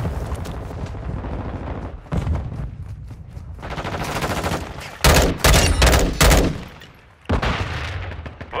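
Gunfire and a flashbang grenade in Call of Duty Modern Warfare II, with steady bursts of shooting building into heavy, loud blasts near the middle, then a short lull before more fire.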